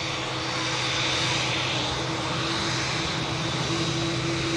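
Engines of a TUI Boeing Dreamliner at the airport, a loud, steady broadband jet roar with a thin whining tone, heard close and continuous without talking.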